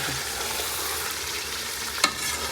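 Chicken frying in a pan while being stirred: a steady, loud sizzling hiss with a single sharp utensil clink near the end.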